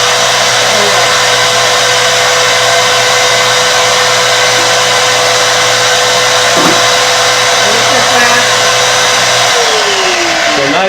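A vacuum cleaner runs nonstop at close range while ash is cleaned out of a pellet stove, a loud, steady motor whine with a constant hum and occasional scraping underneath. No one speaks.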